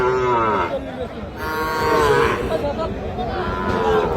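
Cattle at a livestock market in Bangladesh, with loud drawn-out moos repeating over steady crowd noise and faint chatter throughout.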